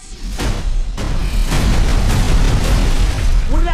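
Big cinematic explosion from the Borderlands 2024 action trailer, a heavy booming blast with a roaring rumble that fills the whole clip and stays loud, a voice briefly heard near the end.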